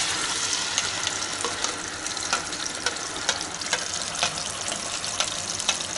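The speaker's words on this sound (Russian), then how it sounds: "На сковородку налил масло и разогревает." Steady crackling sizzle of oil heating in a frying pan, with faint intermittent clinks, continuous and fairly close.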